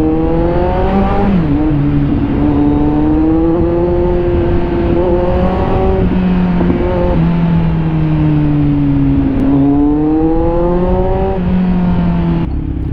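A 2022 Kawasaki Z900 motorcycle runs loud and close on the road, its engine note holding and rising and falling smoothly with a few shifts, with no talk.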